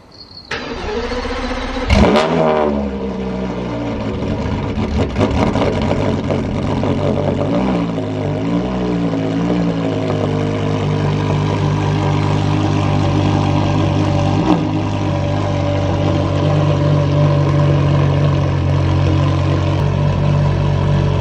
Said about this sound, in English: we can listen to a cold start, the Carrera GT